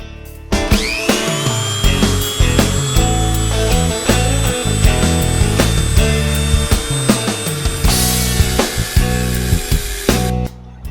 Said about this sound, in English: I just grinded it down and it fits pretty good